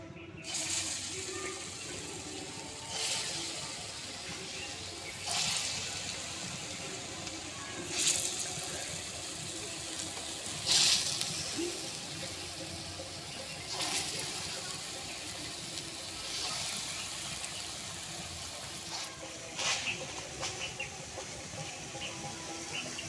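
Vegetable fritters (bora) sizzle in hot mustard oil in a kadai, a steady close frying hiss with small crackling bursts and occasional louder spits throughout.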